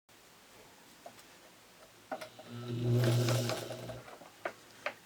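A sewing machine stitching quilt block seams runs in a short steady burst of a couple of seconds, flanked by quiet clicks and handling of fabric.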